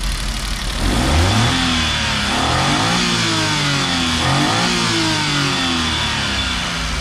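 A three-cylinder inline R06 VVT 12-valve timing-chain engine is revved repeatedly, rising and falling pitch sweeps in a loud, close run of throttle blips with no talk.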